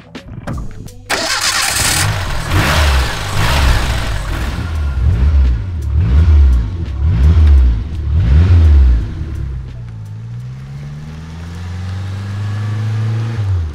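Renault 5 GT Turbo Raider Edition engine starts with a burst, then revs in rising and falling waves as the car moves off, loud and close, before settling into a steadier drone as it pulls away, with no talking.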